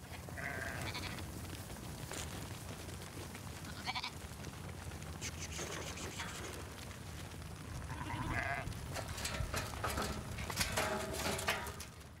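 Sheep and ewes bleat in a pen on a Louisiana lamb farm, several calls rising and fading at a moderate distance over low shuffling and background noise.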